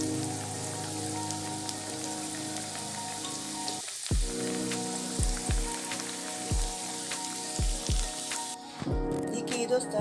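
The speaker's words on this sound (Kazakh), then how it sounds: "қызып тұрған майға барып қуырамыз" Chebureki pastries fry in hot oil with a crackling, rain-like sizzle, close and moderate, broken by several soft thumps and clatters as pieces are placed or moved.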